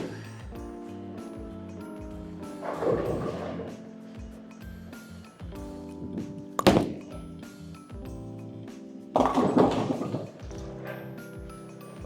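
A Motiv Jackal Onyx bowling ball rolls down a lane on a fresh house shot, ending in a sharp crash of pins, with two louder rumbling bursts of alley noise around it.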